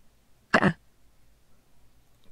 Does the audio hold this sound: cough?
yes